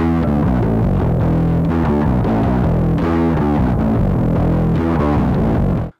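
Bass guitar played through a Pack Rat distortion pedal, a dense, throbbing, fuzzy riff with steady rhythmic notes that holds loud and alone for about six seconds before cutting off.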